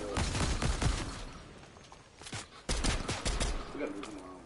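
Rapid bursts of video game gunfire crackle in quick automatic volleys, fairly faint and compressed, with a short lull midway before the firing resumes.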